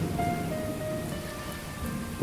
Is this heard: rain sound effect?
yes